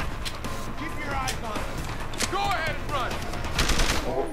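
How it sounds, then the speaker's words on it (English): Bursts of gunfire crackle in Deus Ex: Human Revolution amid game sound effects and music, with several sharp shots spread across the clip. "Fucking gunshot!"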